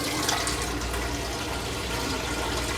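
Water pours steadily from a tap into a container, a loud continuous rushing splash that holds even for a few seconds with no voices.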